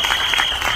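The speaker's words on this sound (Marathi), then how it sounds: "एकदा या फिल्मसाठी जोरदार टाळ्या." An audience at a Marathi film song launch event applauds, a dense, even wash of clapping that holds steady for under a second.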